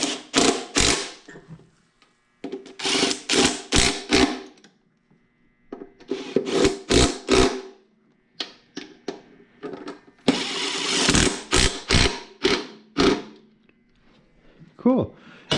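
Repeated bursts of wrench or ratchet strokes as the throttle body bolts on a New Edge Mustang are tightened in a crisscross pattern with an 8 mm tool, coming in close, uneven clusters separated by short pauses.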